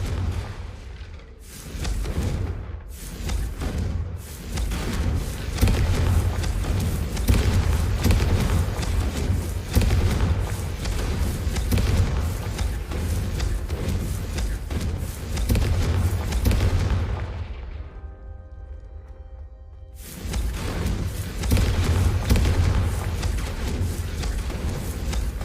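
Repeated Confringo fire spell blasts in Hogwarts Legacy, a long stretch of booming explosions and roaring fiery rumble with brief sharp hits early on, a short lull near the end, then the blasting resumes loudly.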